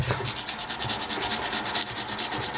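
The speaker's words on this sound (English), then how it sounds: "So just nice heavily scored sandpaper is just enough to do that." Bicycle brake pads from a Specialized Rockhopper are rubbed against coarse, heavily scored sandpaper in a fast, steady back-and-forth rhythm, loud and close with no talking.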